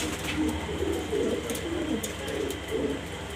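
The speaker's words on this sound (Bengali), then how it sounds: "খামারের জন্য সেরা কবুতর এখানে" Exhibition pigeons, including black-coloured show birds, coo in repeated low throaty phrases nearby, several soft rolling calls overlapping in a steady rhythm with no talk.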